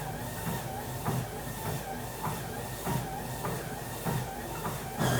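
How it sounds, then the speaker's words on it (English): A Sole F63 treadmill runs with a person walking on it at 3 mph, giving a steady motor and belt hum under a regular rhythm of soft footfalls, heard close up with no talking. "Here's Matthew on the Sole F63, walking at 3 miles per hour."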